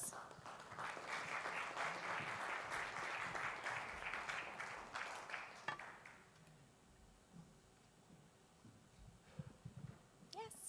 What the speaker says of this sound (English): And you can give them all a round of applause.